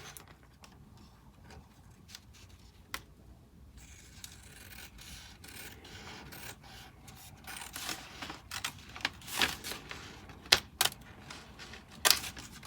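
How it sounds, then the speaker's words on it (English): Quiet scissors snip through paper in a few crisp cuts and rustles, growing more frequent toward the end, close and soft. "Run my scissors along that edge so it looks like all the other ones."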